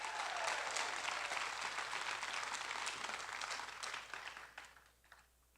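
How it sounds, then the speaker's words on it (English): An audience gives a big round of applause for Texas at a guide dog puppy-raiser fun day opening ceremony. The clapping is dense and sustained, then thins out and fades toward the end. "And let's give Texas a big round of applause."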